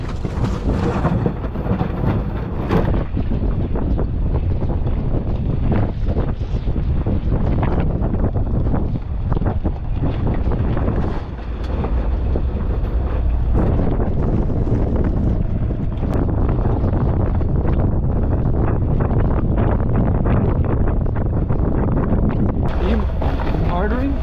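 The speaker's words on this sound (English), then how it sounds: "now that it's luffing, I'm going to start dropping the sail" Wind buffeting a sailboat as its sail luffs head-to-wind before being dropped, a loud continuous roar of gusts, flapping and water noise filling the whole stretch, with occasional voices underneath.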